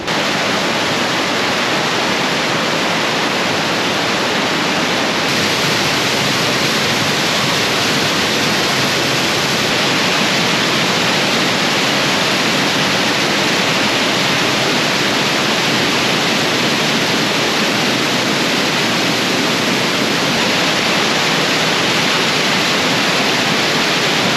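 Water rushing beneath rock below a waterfall in the Arkansas Grand Canyon, a steady broadband roar that stays loud and unchanging for the whole stretch, with no voices.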